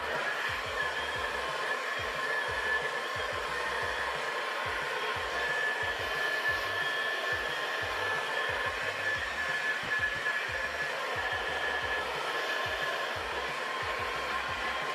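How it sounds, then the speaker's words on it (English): Blow dryer running on low heat with an attachment fitted, a steady, even airy whoosh with a low rhythmic motor flutter, continuous and unbroken throughout. "I'm just gonna grab my little attachment for my blow dryer. And we're gonna keep it on low and low heat."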